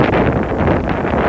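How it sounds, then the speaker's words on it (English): Steady heavy wind buffeting the microphone, a constant low rumbling roar with no other sounds. "It's kind of windy right now."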